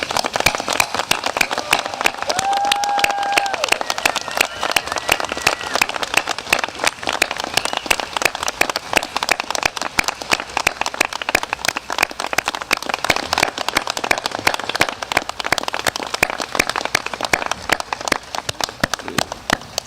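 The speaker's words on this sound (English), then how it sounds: "give you a gigantic round of applause" Sustained audience applause fills a recognition ceremony for high school students, dense steady clapping from a standing crowd continuing loudly and evenly throughout without pause.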